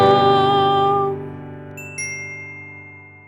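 A doorbell chimes with a sustained, ringing tone that slowly decays, then a second brighter ding strikes about two seconds in and rings out alone.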